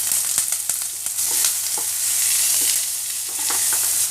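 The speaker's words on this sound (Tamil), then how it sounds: "இப்போ இதில் வெங்காயம் அண்ட் கருவேப்பிலை சேர்த்துக்கலாம்." Onions and curry leaves hit hot oil already crackling with mustard seeds and cumin for a Maharashtra-style potato sabzi, giving a loud, close, steady sizzle broken by sharp spatters and pops, with no talking.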